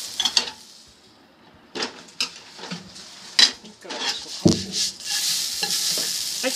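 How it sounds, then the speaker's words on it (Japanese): Chicken salt yakisoba sears in a pan as it is turned to cook the other side, with clanking and scraping of utensils against the metal over a soft sizzle, in sporadic loud bursts close by. "反対側も焼いていきます。"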